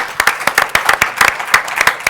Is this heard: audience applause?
yes